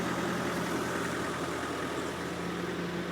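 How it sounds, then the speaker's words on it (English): A Takeuchi TB68 compact excavator on steel tracks idles with its Nissan six-cylinder diesel engine, giving a steady, close, loud low rumble with no voices. "It's got a Nissan 6-cylinder diesel on it."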